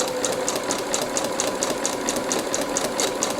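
A sewing machine stitching piping onto a neckline runs in a steady, fast, even rhythm of clicks over a continuous motor hum, close and loud throughout.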